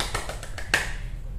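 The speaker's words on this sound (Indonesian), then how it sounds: "dalam hitungan ketiga, ayo adik-adik kita tepuk tangan" Children clap their hands on a count of three during an online children's church service, giving a faint run of about five quick, slightly uneven claps close together.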